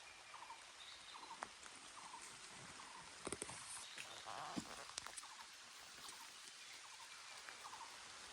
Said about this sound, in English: finally it started raining again